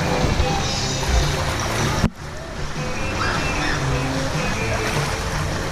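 Rough waves churn in a water park wave pool, a loud, continuous wash of surf and splashing with a brief cut partway through, under crowd noise and no clear speech.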